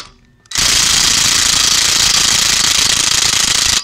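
A loud, continuous rapid hammering rattle of a Ryobi One+ cordless impact wrench at middle speed starts abruptly after a short pause and runs steadily, close and harsh.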